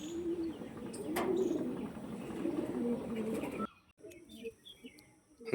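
A black tournament pigeon coos in soft, low burbling phrases against a busy background, with brief chirps and a wing flutter. A faint voice talks over it before the scene drops to near quiet.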